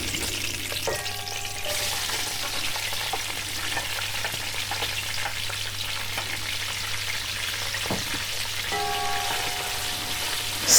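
Onions frying in hot oil with cumin seeds for a turnip curry, giving a loud, steady sizzle with crackles and pops throughout and occasional stirring scrapes, close up with no talk.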